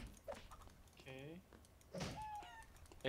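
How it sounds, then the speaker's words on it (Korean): Chickens cluck in a video game, with a couple of short squawking calls standing out over a low background while a person talks over them. "여기 있는 닭 먼저."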